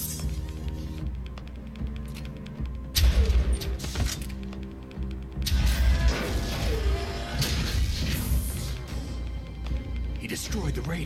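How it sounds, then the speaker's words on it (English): A radome is destroyed in the video game Metal Gear Solid: Twin Snakes, with loud crashing impacts and heavy thuds bursting over a mechanical rumble, followed by sustained debris and explosion noise. "He destroyed the radome."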